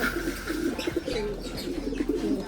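Grizzle pigeon cooing softly in a loft, a few low murmuring coos in quiet succession, faint and close.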